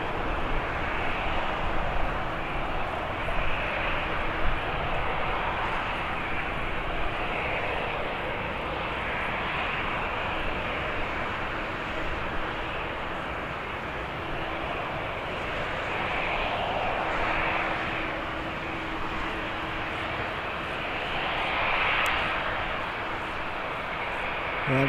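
A fixed-wing airliner arriving at Birmingham Airport, its engines a steady broad roar held for the whole stretch, loud and close with a faint swell near the end and no talk over it.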